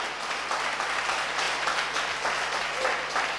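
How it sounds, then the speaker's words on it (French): A church congregation breaks into applause in praise, a broad, sustained wash of many hands clapping with a faint murmur of voices underneath. "Je veux que quelqu'un acclame le Seigneur pour cette parole."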